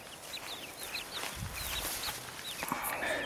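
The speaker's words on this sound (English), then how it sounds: "I've got some happy little birdies." Chickens in a backyard coop being set up, giving high peeps and soft clucks at moderate level over a steady background hiss, with no talking.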